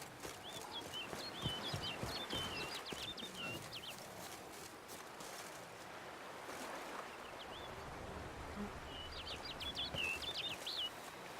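Bird calls in The Witcher 3 video game: two bursts of quick, high chirping trills, one early and one near the end, over a steady outdoor wash of wind and water.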